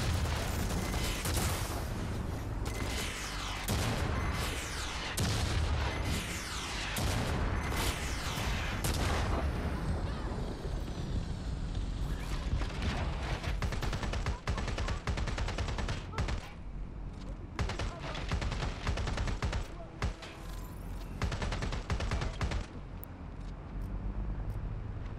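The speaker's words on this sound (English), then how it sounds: "Those are missiles." Missile strikes in the Watch Dogs Legion video game, a loud, dense barrage of explosions and rapid blasts filling the whole stretch, with brief quieter gaps toward the end.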